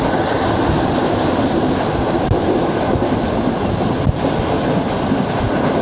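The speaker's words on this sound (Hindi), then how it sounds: "अभी ट्रेन हमारी गुजर रही है पीरा गायब रेलवे स्टेशन से।" The Shalimar Express passenger train rolls steadily through Peera Ghaib railway station, a loud continuous rumble with wheel clatter heard from inside, without talk.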